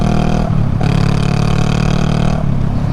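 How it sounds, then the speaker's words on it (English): A tractor's engine rumbles and clatters loudly on the road, a steady close mechanical drone with brief dips, heard from a morning motorcycle ride. "Oh, there's a tractor."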